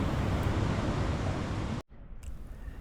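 Continuous broadband rushing of a river flowing through Yellowstone's Grand Canyon, loud and steady, heard from nearby, briefly dropping out before resuming a little quieter.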